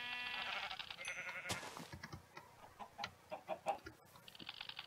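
Chickens clucking among farm animals in the Minecraft video game, a series of short separate clucks and bleat-like calls at moderate level, with no talking.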